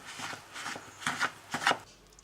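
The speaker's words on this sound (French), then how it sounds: "Voilà le beurre qui est mis sur la farine. Je veux mélanger jusqu'à liaison." Butter rubbed into flour by hand in a bowl for brioche dough: a run of soft, gritty rustling and squishing strokes in an irregular rhythm, close up with no talk.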